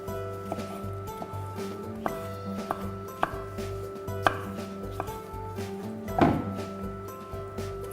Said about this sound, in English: we're just going to chop these up, just roughly chopped